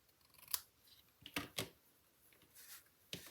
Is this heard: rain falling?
no